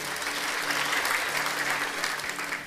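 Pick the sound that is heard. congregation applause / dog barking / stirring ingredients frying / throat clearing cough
congregation applause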